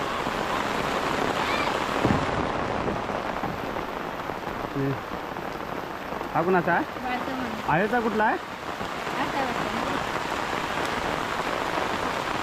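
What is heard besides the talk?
heavy rain falling on paddy field during rice planting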